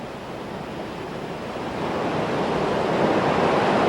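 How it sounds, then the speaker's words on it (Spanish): Simón Bolívar waterfall in San Agustín, Huila, a steady broadband roar of falling water that swells slightly louder toward the end, with no voices. "O la cascada Simón Bolívar."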